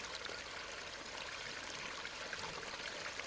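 A Traxxas TRX-4 Bronco RC truck splashes through a shallow forest stream, with a soft, steady rush of flowing water that stays even and fairly faint throughout.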